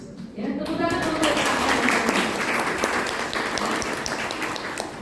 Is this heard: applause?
yes